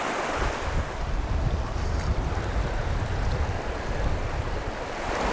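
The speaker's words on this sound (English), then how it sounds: "the wind has shifted into another gear. We're getting some seriously strong gusts now." Strong, gusty wind roars steadily outdoors at a natural desert oasis, a loud low rumble of wind buffeting the microphone with swelling gusts throughout and no voices.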